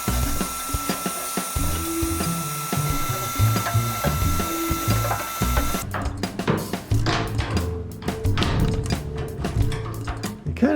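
Loose metal parts and bracket pieces clatter and rattle inside a metal storage box for a work truck, with a dense run of sharp, close knocks and jangles in the second half.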